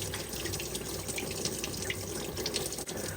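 Mostly water pours and drains steadily out of a diesel truck during repair, a continuous close splashing trickle at even loudness throughout.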